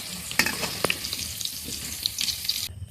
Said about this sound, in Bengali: এবার আমি কুমড়োটা ভেজে নেব।